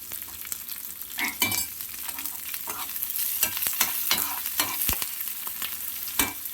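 Small onions and green chillies fry in a pan while being stirred, giving a close sizzle with repeated scraping and clattering strokes of the spoon and no voices.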